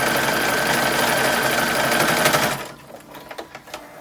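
A sewing machine stitches the hem of a 1920s–1940s style infant nightgown, a fast, close, even mechanical whirr for about two and a half seconds, then stopping into a few light clicks and taps.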